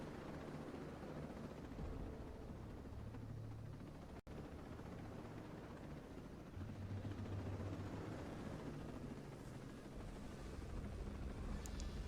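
A video game helicopter gives a steady, dense rotor and engine roar throughout. The sound is loud and continuous, with one very short dropout and no speech.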